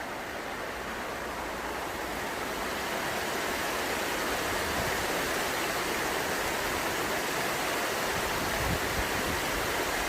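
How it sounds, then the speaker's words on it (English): A waterfall in Rivelin Valley, Sheffield, pouring steadily as a dense, continuous rushing roar close by, with no voices. "And another beautiful waterfall."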